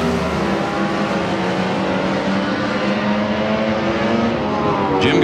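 A drag race car launches off the starting line in a Competition Eliminator race at Texas Motorplex with a loud, sustained engine roar that climbs in pitch and holds throughout, under a faint voice.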